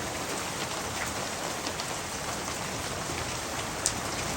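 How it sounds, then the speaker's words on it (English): Hail pelting a house and its roof, a dense, steady patter of hard strikes spread evenly throughout, with one sharper crack near the end and no voices. "It's hailing."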